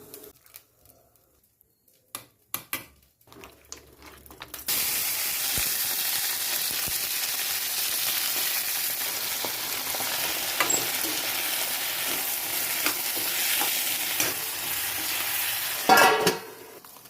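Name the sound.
tomatoes and onions frying in pan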